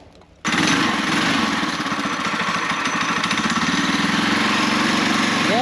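Car engine on a torque converter stall test with blue springs, jumping from a quiet idle to a loud sustained revving drone that holds high and steady for several seconds.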